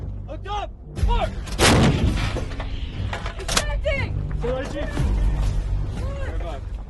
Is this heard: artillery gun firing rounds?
yes